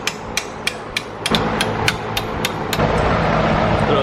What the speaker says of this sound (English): just put a rubber mallet on this end, that way it doesn't damage the stud